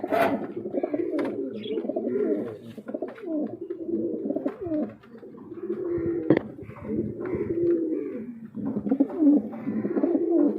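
Pair of large, healthy King pigeons cooing close by in repeated low, throaty rolls that continue steadily throughout.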